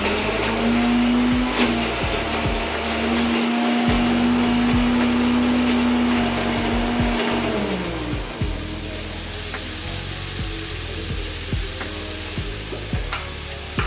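A mixer grinder blends mint and coriander leaves into a paste, its motor holding a loud, steady whine for about seven seconds before cutting off, followed by a few light clicks and scrapes nearby.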